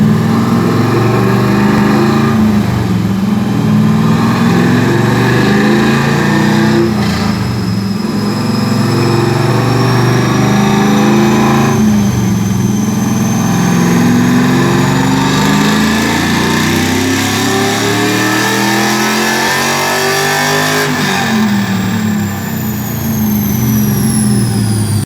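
A Camaro's LS1 V8 with nitrous runs loud and close, holding a steady rumbling idle with rising and falling revs throughout.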